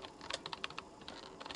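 Quick, light keystrokes on a computer keyboard enter a password during a Windows installation, an uneven run of soft clicks close by with no talk.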